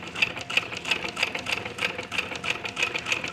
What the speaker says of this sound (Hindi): ये इस तरह से घुमाते हुए हमको सिलाई लगानी है।